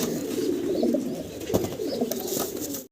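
A pair of Modena pigeons at a farm coo repeatedly in soft, low, throaty bursts, steady and close, over a busy background of other birds with no talk.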